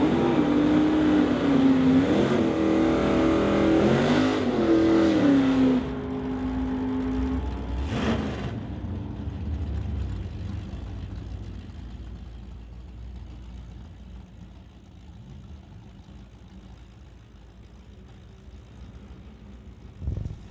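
A 1963 Pontiac GTO and a Chevrolet S10 launch off the line at a drag race, both engines roaring loud and revving hard, then fading away down the strip into the distance.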